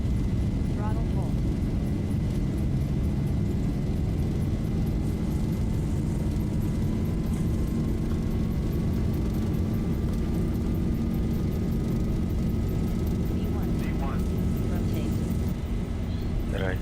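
Loud, steady roar of jet engines at takeoff thrust in a Zibo mod Boeing 737 flight simulator, a broad rumble with a rising whine running unbroken under occasional cockpit callouts.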